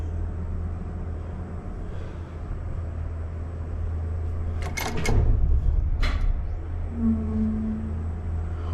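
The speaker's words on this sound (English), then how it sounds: "that has a busted roller on that door operator" An elevator door operator with a busted roller, heard from a car interior under a steady low hum, gives a couple of sharp scraping, rattling bursts midway as the door moves, followed by a brief tonal squeal.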